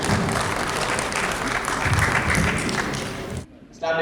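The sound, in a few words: audience applause as guest comes on stage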